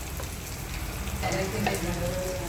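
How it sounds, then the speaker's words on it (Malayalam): Washed fish slipping into a bubbling Kerala vendaka meen curry, a continuous close sizzle and simmer with a few soft stirring scrapes and splashes. "തിളക്കുന്ന നമുക്ക് കഴുകി വെച്ചിട്ടുള്ള ഫിഷ് ഇതിലിടാം."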